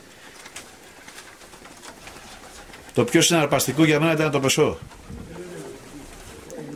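Diving pigeons flown by a handler in Kozani in February come back, with pigeon coos and wing noise. Someone speaks loudly in the middle.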